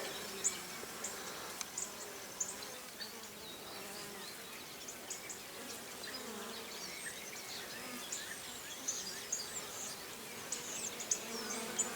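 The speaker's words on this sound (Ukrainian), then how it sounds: "І бджола вже має роботу" A bee buzzes steadily close by at flowers on a cloudy, cool day, its drone wavering as it moves, with faint birdsong far off in the background.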